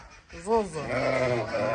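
A sheep bleats with a wavering, nasal cry close by, followed by more bleating blended with other sounds.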